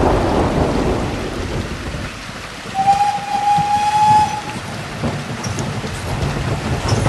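Night thunderstorm with wind and heavy rain, a dense roar of rainfall with rumbling thunder through most of the stretch and a brief high whistle-like tone near the middle, loud and without voices.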